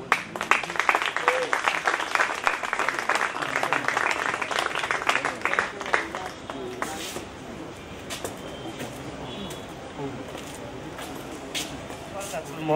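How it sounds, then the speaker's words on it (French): Audience applause greeting the Minister of Culture and Arts at a formal evening event, a dense burst of clapping for about six seconds that thins and fades into softer crowd noise. "On l'applaudit."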